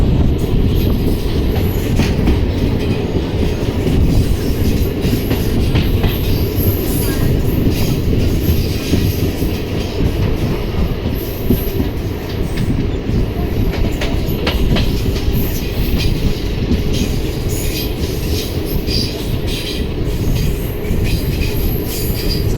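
A train rumbles steadily past at close range entering Nandyal railway station, wheels clattering and squealing on the rails, loud and continuous throughout with no voices.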